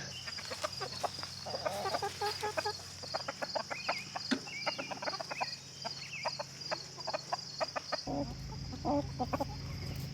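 A flock of farm chickens eats feed from a supplement bag, giving steady overlapping clucks and soft calls at close to mid distance, with a low background hum that drops partway through.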